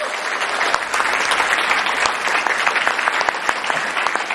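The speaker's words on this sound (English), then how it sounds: "So give yourselves a big round of applause." A large audience at the EGX London gaming event applauds loudly and steadily, dense clapping filling the hall with no one speaking over it.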